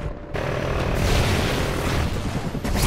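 A stun grenade goes off in a video game, bursting in with a loud, close, booming blast after a brief quiet moment, then lingering as a dense, rumbling roar that fills the rest of the moment without any voices.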